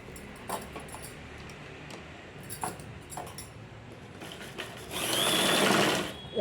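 A sewing machine stitches along the edge of a lining blouse, with light scattered clicks before a loud, steady whirring run near the end, close and alone with no voices.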